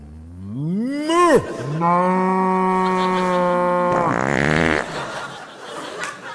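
A pantomime performer imitates a cow's moo with a voice, giving one loud, drawn-out lowing call that rises and then holds steady before trailing off into a short comic grunt.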